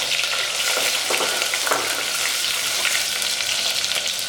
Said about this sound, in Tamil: இது நல்லா ஃப்ரை ஆகட்டும் தீயாமல் ஃப்ரை பண்ணணும்